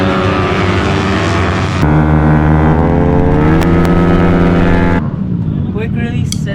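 Yamaha Aerox scooter at a racetrack, its engine droning loud and close with rising and falling pitch as the throttle changes, then easing off near the end.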